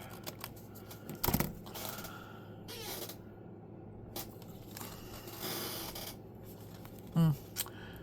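Scissors snipping through paper in a few separate cuts, near and fairly quiet, with rustling and faint background noise between them.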